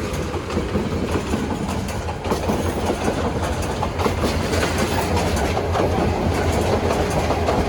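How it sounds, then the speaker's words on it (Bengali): The Jamuna Express, running between Tarakandi and Dhaka, passes close at speed with a loud continuous rumble and rapid clickety-clack of wheels over rail joints throughout. "অনেক দ্রুত যাচ্ছে যমুনা এক্সপ্রেস"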